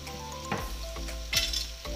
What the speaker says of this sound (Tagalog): Ilagay na natin yung sibuyas, mga kasulit.